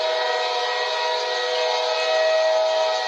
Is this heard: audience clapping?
no